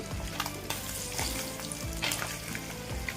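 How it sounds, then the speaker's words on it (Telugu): Small mettalu fish frying in a pan, a steady crackling sizzle with occasional stirring scrapes and low clatter throughout, no voices. "బాగా ఫ్రై అవుతున్నాయి"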